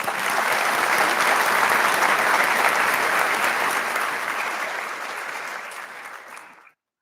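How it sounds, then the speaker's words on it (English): At a 2025 Quitman High School graduation, the crowd gives the graduates a full, loud round of applause, many hands clapping steadily before the sound thins and fades out near the end. "Let's give them all a round of applause."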